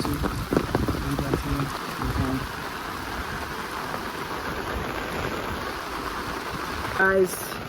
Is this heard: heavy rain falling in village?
yes